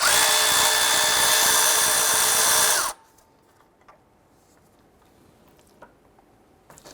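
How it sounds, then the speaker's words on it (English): A power tool drives a 12mm socket with an extension, loosening and removing a bolt behind a 2012-2017 Toyota Camry 3.5L alternator. The steady, loud whir runs for about three seconds, then cuts off, leaving faint clinks and handling noises. "We're going to use our 12mm socket and extension to go ahead and loosen and remove this bolt."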